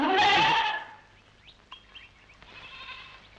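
A village goat gives one loud, close bleat, then quiet background with faint bird chirps and light scattered rustling.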